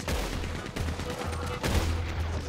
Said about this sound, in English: Oh my god, they got a goddamn Gatling gun.